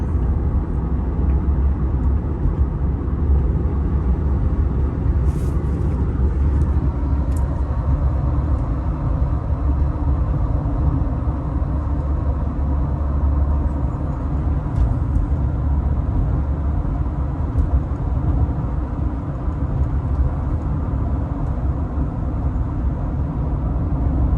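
A Subaru Legacy's engine cruising in fifth gear at about 50 mph and 2200 RPM gives a steady, loud low rumble with road noise, unbroken throughout, with no talk.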